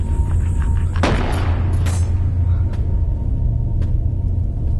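A single loud boom of shotgun fire in the game Animal Company bursts over a constant low rumble, followed by fainter scattered clicks and thuds.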